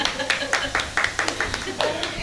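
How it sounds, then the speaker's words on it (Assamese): A group of people claps their hands in a steady, rhythmic series of close, sharp claps, with voices audible underneath. "হাত চাপৰি বুজাই দিয়কচোন বাইদেউ এটা আপোনালোকে"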